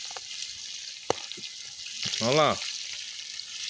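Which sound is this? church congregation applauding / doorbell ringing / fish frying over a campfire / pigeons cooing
fish frying over a campfire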